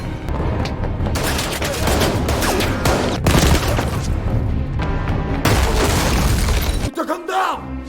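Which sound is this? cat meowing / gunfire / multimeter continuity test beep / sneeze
gunfire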